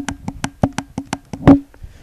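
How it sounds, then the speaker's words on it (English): A series of sharp, close clicks from a gaming controller's back paddle button in a quick, fairly even rhythm, about ten in two seconds, with one louder click near the end. "I can jump with my left paddle, which sounds like this."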